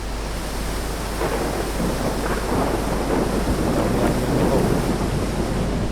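A waterfall roars in the video game Far Cry Primal in a steep valley, a dense, continuous rushing wash like heavy rain or surf that swells slightly, with no speech.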